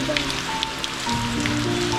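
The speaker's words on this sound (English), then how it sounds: "Water dripping." Scattered water drips land at irregular intervals inside the Lithgow Glow Worm Caves, Australia, a few sharper plinks standing out over a steady low hum and faint rain-like patter.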